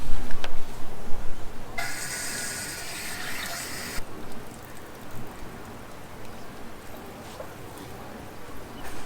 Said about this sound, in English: I'm gonna pour water in it, see if it leaks.